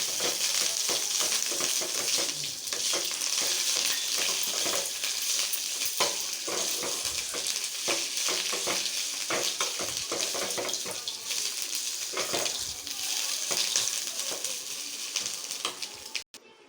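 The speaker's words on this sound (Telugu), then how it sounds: "కొంచెం వేయించుకోవాలి కడిగి పెట్టుకున్న కొత్తిమీర" Washed coriander leaves fry in a pan with a loud, continuous crackling sizzle and occasional stirring knocks for about sixteen seconds before it cuts off abruptly, with no voices.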